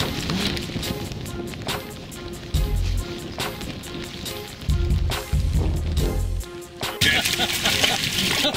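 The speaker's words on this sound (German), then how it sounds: "weil es anfängt zu regnen" Rain beginning to fall on a fishing boat on a halibut trip in Norway, a soft patter of drops on deck surfaces mixed with water sloshing and low engine rumble.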